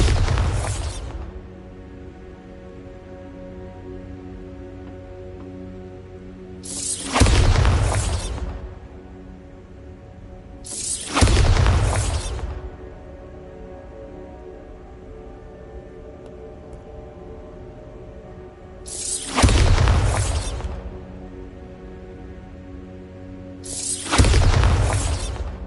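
Bombarda blasting spells in Hogwarts Legacy, five loud booming explosions with whooshing, shattering tails, spaced several seconds apart over a low ambient hum.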